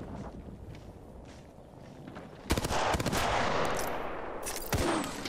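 Gunfire erupts in an offline shooter video game, with a sudden loud burst of rapid shots, then sustained noisy action and another sharp burst near the end.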